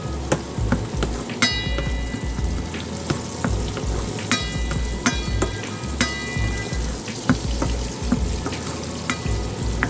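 Onion and green onion fry in oil with a steady close sizzle and crackle, along with scattered pops and spatters throughout, and no talking.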